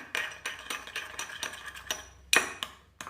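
A spoon stirs aloe vera gel paste in a bowl, making quick, rhythmic light clinks and taps, fairly close and quiet, with one sharper knock near the end.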